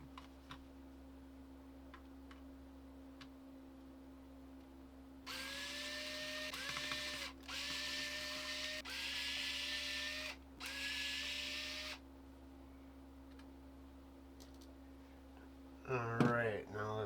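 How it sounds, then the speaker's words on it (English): Four small tri-wing screws come out of a game controller with a small electric screwdriver, four whirring bursts in a row at moderate level over a steady low hum, with a brief voice at the end. "we got these 4 little tri-wing screws to get out."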